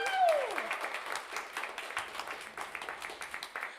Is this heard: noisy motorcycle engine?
no